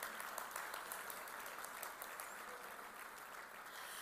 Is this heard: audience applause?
yes